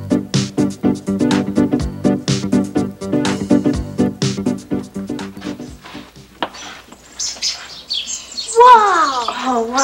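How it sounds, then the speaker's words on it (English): A hungry baby robin peeps in rapid, repeated high chirps, loud and close, then gives way to a flurry of sweeping, overlapping twittering calls. "This little guy is peeping because he's hungry."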